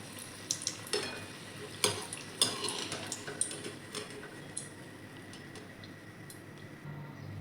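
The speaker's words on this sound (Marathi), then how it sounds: "मिरची पण भजीसोबत खाण्यासाठी मिरची पण तळून घेते." Green chilies fry in hot oil alongside potato bhaji, a soft steady sizzle with scattered light ticks and clinks of a stirring utensil, a few sharper taps standing out early on.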